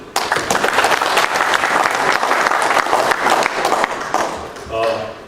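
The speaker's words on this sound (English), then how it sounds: "So just want to give Tony a round of applause." Audience at a quarterback club luncheon applauds with a dense, sustained round of clapping from a crowd, holding steady before tapering off near the end.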